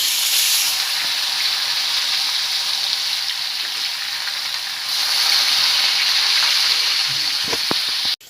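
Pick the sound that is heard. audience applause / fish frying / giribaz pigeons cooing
fish frying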